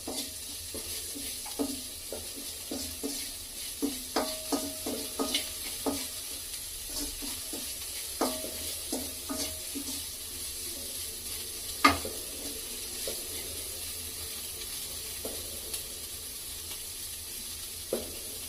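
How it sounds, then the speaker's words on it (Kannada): Salt being stirred into ingredients in a sizzling pan, soft continuous frying hiss beneath close, irregular scraping and clinking of a spoon against the pan, with one sharper knock near the end. "ಉಪ್ಪನ್ನು ಸಹ ಬೇರೆ ಇಂಗ್ರೀಡಿಯೆಂಟ್ಸ್ಗಳ ಜೊತೆಗೆ ನೀಟಾಗಿ ಮಿಕ್ಸ್ ಮಾಡ್ಕೋಬೇಕು"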